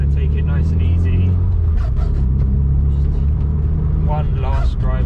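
Nissan Silvia Spec R S15 driving gently on a chilly day, a steady low engine drone and road rumble running throughout, with a person talking over it.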